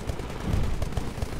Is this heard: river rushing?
no